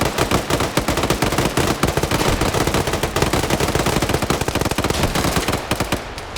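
An M249 machine gun fires in a PvP video game match, a loud, continuous stream of rapid automatic shots with dense overlapping gunfire throughout.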